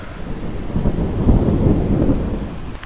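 Thunder rumbles low and heavy during an outdoor thunderstorm in New Jersey, swelling and fading over a steady wash of rain and wind noise, with no voices.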